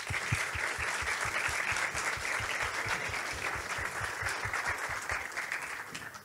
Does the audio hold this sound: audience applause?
yes